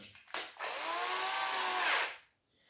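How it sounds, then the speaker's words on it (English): An electric screwdriver whirs steadily for about a second and a half while unscrewing a 1:18 scale Mercedes-Benz 770K model car from its display base, preceded by a brief click and handling noise. "So let me use my electric screwdriver."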